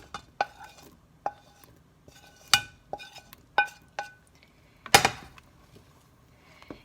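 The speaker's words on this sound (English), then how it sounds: "And I'm just going to stir that." A spoon stirs ham potato soup in a pot, making a series of sharp metallic clinks and scrapes against the side, spaced irregularly over several seconds in a quiet kitchen.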